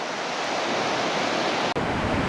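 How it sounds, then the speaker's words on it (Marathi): Powerful, steady roar of the Alaknanda river in full flow below Badrinath, a broad continuous rush with no breaks, loud and close, with only a momentary dip near the end. "खाली अलकनंदा नदीचा प्रचंड प्रवाह"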